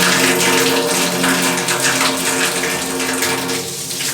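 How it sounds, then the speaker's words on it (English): Water pours steadily from a gravity-fed vintage bath faucet into the tub, a loud, continuous splashing rush that holds constant with no talk over it. "Pretty good amount of water coming out of there."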